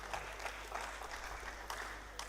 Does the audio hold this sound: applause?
yes